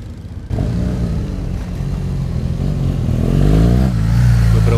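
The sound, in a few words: BMW motorcycle engine revving, blipping the throttle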